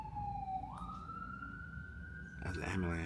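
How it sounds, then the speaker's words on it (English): An ambulance siren wails steadily in a rising, sustained tone near a train journey, with a muffled voice and bustle joining near the end. "That's the ambulance."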